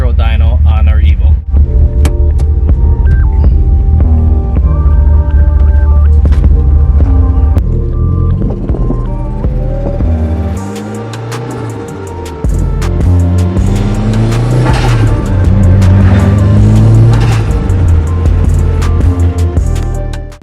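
Mitsubishi Evo 8 idling while warming up, a loud steady engine drone with a low rumble and shifting tonal whine, continuous and close throughout with rough wind-like noise over it.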